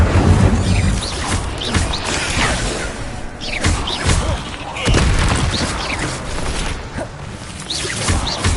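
Incendio fire spell cast in the Hogwarts Legacy video game, dense loud bursts of booming whooshes and crashing impacts layered over continuous game music and effects.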